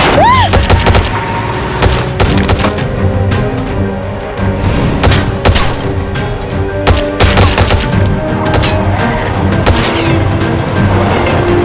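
Gunfire in a TV drama shootout scene, loud bursts of shots and booming impacts scattered across a dense dramatic soundtrack with vehicle rumble, close and heavy, with brief shouting voices mixed in.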